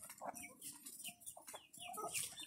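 Hens cluck and chatter in quick irregular bursts close by, several birds overlapping with soft farmyard noise around them.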